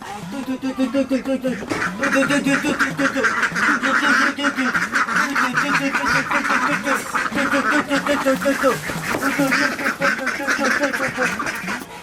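A flock of ducks quacks continuously and loudly, a dense overlapping chorus close by that fills the whole stretch.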